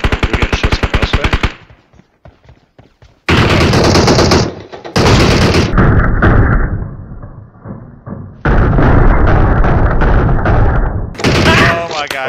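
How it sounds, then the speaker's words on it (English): Bursts of automatic gunfire from the video game PUBG Mobile, loud and dense, with rapid rattling volleys, a quieter gap of scattered shots, then more sustained firing, with players talking over it. "We're getting shots from elsewhere."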